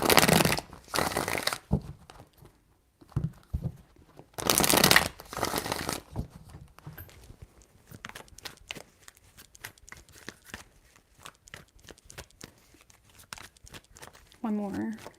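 Tarot cards shuffled by hand in a few quick crisp bursts, riffling and flicking close up, followed by softer card handling and taps, with a person speaking briefly at the end.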